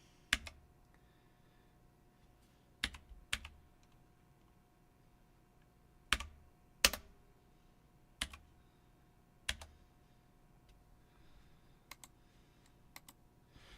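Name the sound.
computer keyboard typing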